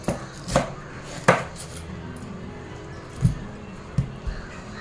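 A knife chops through a whole pineapple, trimming off the spiky outer skin. Six or so sharp, separate cuts land at uneven intervals against a board, close and clear, with no talking.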